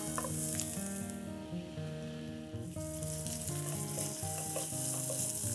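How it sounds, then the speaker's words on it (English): Ground paste hits hot oil with onions and bay leaves for a tender coconut curry, giving a loud, steady sizzle and frying crackle that runs throughout without any talk. "I'm going to add in the ground paste"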